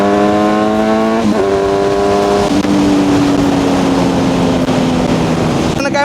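A tractor driven across a farmer's own field gives off a loud, steady engine whine. Its tone climbs and then slowly sinks as the revs change, over a constant rough rumble.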